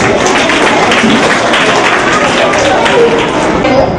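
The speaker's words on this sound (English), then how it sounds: "So let's welcome them with a loud round of applause." Dense, loud applause from a crowd, a continuous wash of clapping that holds steady for several seconds.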